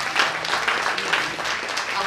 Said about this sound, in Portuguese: Aplauda o Senhor pela vida do nosso companheiro.